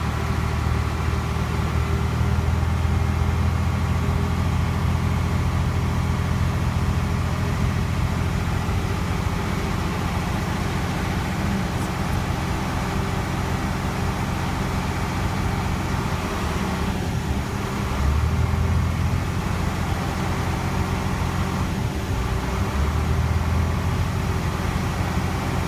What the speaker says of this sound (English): I'm going to continue to charge my air compressor and governor